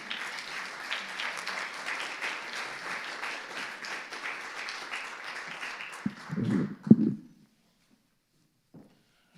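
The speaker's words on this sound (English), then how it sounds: "You haven't said anything, and they're already applauding you" An audience at a community event on Nashville's Native American and Indigenous community breaks into steady, fairly distant clapping that fades out after about six seconds, followed by a few close rustling bumps and then near silence.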